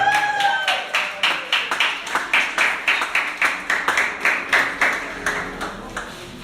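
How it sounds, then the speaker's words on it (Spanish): A church congregation claps for its returning pastor: firm rhythmic clapping in unison, regular beats repeating steadily throughout, fairly close and loud. "Un fuerte aplauso, por favor."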